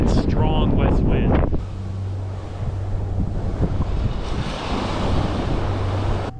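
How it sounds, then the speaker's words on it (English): Strong west wind buffets the microphone on a New Jersey beach with rolling surf beneath, a loud steady roar after a person briefly speaks at the start. "we're gonna work the beach a little bit. Strong west wind."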